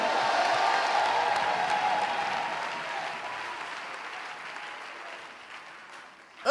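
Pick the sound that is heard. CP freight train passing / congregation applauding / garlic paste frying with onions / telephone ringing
congregation applauding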